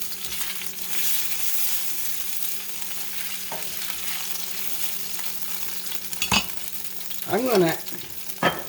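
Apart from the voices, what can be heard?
beef stroganoff frying and being stirred in olive oil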